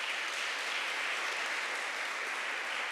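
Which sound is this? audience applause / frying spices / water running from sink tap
audience applause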